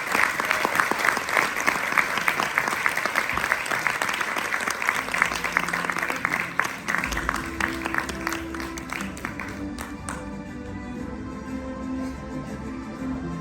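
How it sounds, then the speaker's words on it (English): Sustained audience applause fills a congress hall at a national cancer congress, dense and steady, tapering slightly toward the end as low music or hum rises beneath it. "let's give a round of applause to everyone here"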